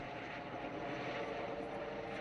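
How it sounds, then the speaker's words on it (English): A helicopter in Farming Simulator 19 drones steadily and loudly, a broad, constant engine and rotor roar with no talk over it. "wow, it's loud. There is a helicopter there"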